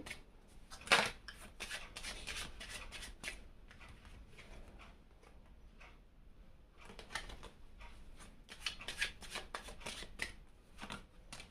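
Tarot cards shuffled by hand in quick riffling bursts with brief pauses between them and a snap as cards are drawn, close and quiet, with no speech.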